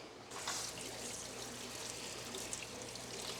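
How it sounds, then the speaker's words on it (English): Tap water pouring into a BioCube aquarium tank with dirt substrate, a steady, faint, even rushing splash that runs continuously without pauses and with no talk. "Let's go get some water running in this bad boy"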